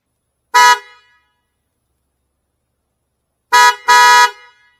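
Aftermarket Hella horn fitted to a Toyota RAV4 Prime sounds one short, loud honk, then after a pause two more honks in quick succession. The tone is bright and brassy, close up, with no voices.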